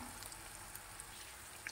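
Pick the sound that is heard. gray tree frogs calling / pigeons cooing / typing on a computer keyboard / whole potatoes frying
whole potatoes frying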